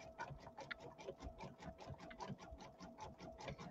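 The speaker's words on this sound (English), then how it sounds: "it takes a while to do a satin stitch all the way around." A sewing machine running steadily while stitching a wide satin stitch around an in-the-hoop ironing pad, its rapid even needle rhythm faint but continuous throughout.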